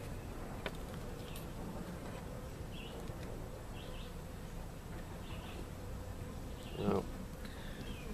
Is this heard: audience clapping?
no